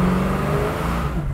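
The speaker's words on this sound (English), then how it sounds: "That was just touching the throttle, guys. I didn't even mash on it." A 1969 Chevrolet Chevelle V8 rumbling close by after a light touch of the throttle, giving a steady, deep engine tone that eases slightly toward the end, with no voices.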